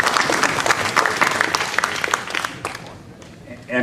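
Audience applause at an OVA board meeting, a dense burst of clapping that fades out over a few seconds, with voices mixed in.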